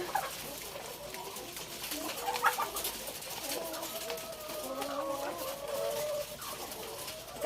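Layer hens on a small egg farm cluck and coo continuously at close range, with overlapping bird calls, while a person talks nearby.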